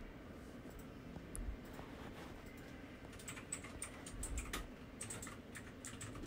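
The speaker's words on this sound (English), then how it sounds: "And then you can type in anything here." Fingers tapping text into a phone's on-screen keyboard in the CapCut editing app, a soft steady patter of small clicks close by, with no one talking.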